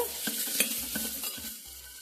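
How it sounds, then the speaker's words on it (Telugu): Vegetables frying in a pan for vegetable khichdi, a steady close sizzle with a spatula scraping and stirring at a few irregular moments, no voices. "గోల్డెన్ కలర్ వచ్చేంత వరకు ఫ్రై చేసుకోవాలి"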